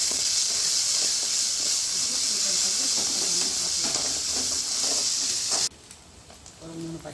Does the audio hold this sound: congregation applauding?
no